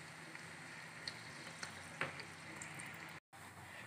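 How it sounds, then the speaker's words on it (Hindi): A chopped large onion fries in a pot toward golden brown for a beef pulao, a faint, even sizzle with a few small pops and a brief cut near the end. "प्याज को हमने जब तक ब्राउन करना है जब तक इसका रंग गोल्डन ब्राउन ना हो जाए"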